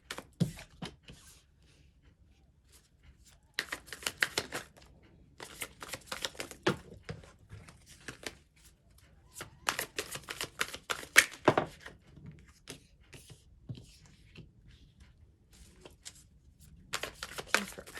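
Tarot cards being shuffled in bursts of soft, rapid riffling and flicking, quiet and close, with pauses between handfuls during a card reading.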